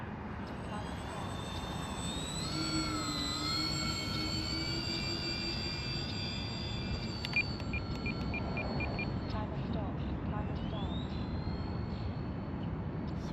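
A large FlightLine OV-10 Bronco RC model plane flies overhead at an airfield, its steady whining electric motor drone changing pitch as it passes, with a continuous broad rushing noise throughout.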